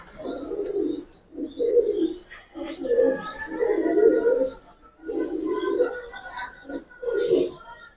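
Silver khaki pigeons coo in repeated low, throaty bursts, several birds close by with brief pauses between phrases and faint higher chirps over the top.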